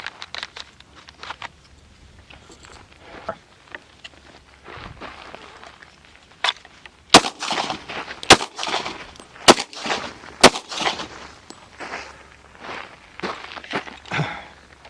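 Gunshots fired during close-quarters defense shooting practice, several loud, sharp cracks spaced about a second apart, mixed with footsteps and shuffling movement nearby.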